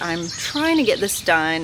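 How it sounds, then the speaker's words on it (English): Birds chirp lightly in a backyard on a hot day, faint behind someone talking close by. "you can hear the birds chirping"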